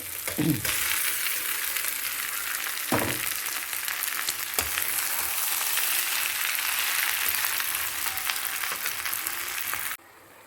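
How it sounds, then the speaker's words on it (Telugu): Brinjal pieces frying in a pan, a loud, dense, continuous sizzle with a few brief stirring knocks, cutting off abruptly near the end. "వంకాయ ముక్కలు ఇలా వేయించుకోవాలండి"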